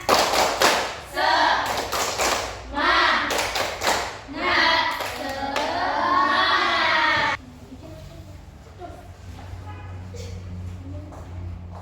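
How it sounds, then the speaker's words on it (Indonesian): A classroom of pupils performs the rhythmic 'tepuk semangat' spirit clap, sharp patterned claps mixed with chanting voices for about seven seconds, then it stops and only a quiet room remains. "kita tepuk semangat dulu"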